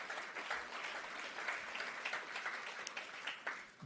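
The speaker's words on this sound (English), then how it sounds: "I wish you to all applaud yourselves" Audience applause fills a closing plenary session of a conference, a steady, dense wash of clapping from a large hall that holds at an even level throughout with scattered sharper claps standing out.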